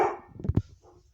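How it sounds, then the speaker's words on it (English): A dog barks indoors, a couple of quick, sharp barks close by in a short burst, then fading into quiet room noise. "That's my dog being annoying."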